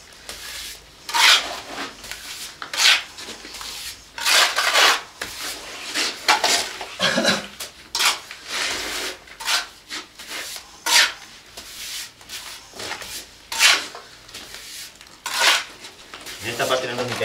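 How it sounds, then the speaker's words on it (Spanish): A steel trowel smooths lime and sand plaster across a wall in repeated sweeping strokes, a gritty scraping rasp that comes close and fairly loud in an irregular rhythm, with some brief talk between strokes. "cargamos la cuchara y alisamos sobre el valle"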